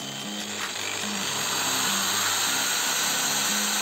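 A Bosch GBM 350 electric drill runs at its top speed with a steady, continuous whirring whine. It sounds close and even throughout, with no one talking.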